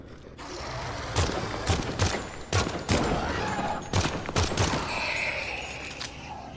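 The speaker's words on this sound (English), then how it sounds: "This rifle, this BR-61, is really good at range or dealing with one enemy, but it does not fire quickly enough" BR-61 rifle fire in the video game Project Silverfish: a string of sharp, loud single shots in uneven succession, roughly eight reports spaced about half a second apart, ringing over a steady ambient bed with no talking.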